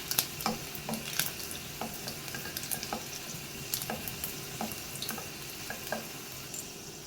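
Five whole garlic cloves stirred and sautéed in a pan for lasooni methi, a soft, low sizzle under a run of light, regular spatula scrapes and taps, close but quiet.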